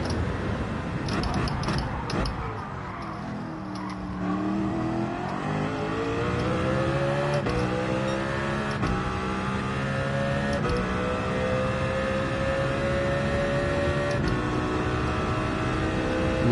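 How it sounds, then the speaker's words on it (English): Car engine in Gran Turismo 7 revving hard and close, pitch falling through an upshift then climbing steadily over a long, loud pull, with a few sharp clicks of gear changes; no talking. "Rev it out now while we can."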